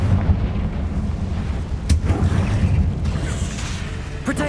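Confringo fire spell explosions in the Hogwarts Legacy video game: a dense, loud, rumbling blast texture, with sharper bursts cracking through near the middle and at the end.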